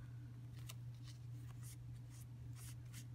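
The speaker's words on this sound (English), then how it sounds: "these, I think, are better scissors. If I'm going to trim some" Scissors snip and trim paper for an altered-book journal page in a series of soft, short cuts spread unevenly over a steady low hum, close and quiet.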